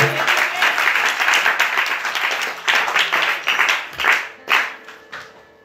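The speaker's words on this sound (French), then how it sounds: "acclame d'abord Jésus" A church congregation applauds in a dense wave of clapping that rises and falls in bursts, with a few louder swells near the end before fading out.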